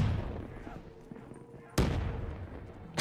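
A pistol shot from Black Ops 3 Zombies cracks once near the middle, loud and sharp, and rings out over a rumbling game background, with another beginning right at the end.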